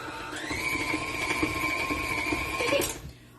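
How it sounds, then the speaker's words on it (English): A stand mixer churns gingerbread cookie dough with a strained motor whine that rises as it speeds up, holds steady against a rhythmic thumping of the dough, then cuts off near the end. "My mixer's working hard today."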